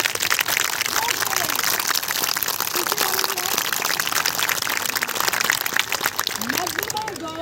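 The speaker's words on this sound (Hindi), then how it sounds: "आप लड़कियाँ अपने लिए जोरदार तालियां बजा दीजिए" A room full of uniformed schoolgirls clapping loudly and continuously, a dense unbroken crackle of many hands with voices faintly mixed in.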